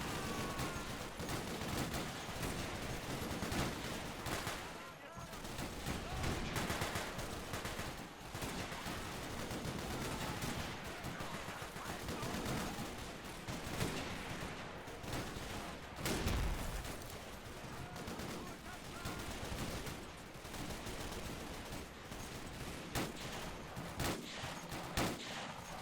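An MG34 machine gun lays down covering fire in the Totaler Krieg war game, a dense continuous clatter of rapid bursts mixed with scattered rifle shots and distant blasts over about twenty-five seconds.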